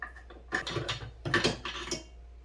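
Spring and bolt being pulled from a KP9 pistol during a field strip: a few close, dry metallic clicks and sliding scrapes in short bursts, alone without talk.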